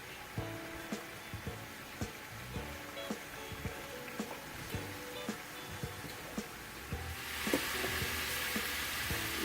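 Onions and peppers fry in oil in a big pot for homemade chili, a steady close sizzle with scattered crackles and light clinks of stirring, the hiss growing brighter and louder near the end.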